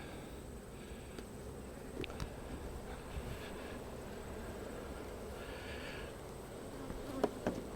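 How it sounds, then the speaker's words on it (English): A soft, continuous buzzing of many bees in the background during a small honey harvest, with a few faint clicks and knocks over a steady low hum. "There's about maybe 20 bees in there, 30 bees in there"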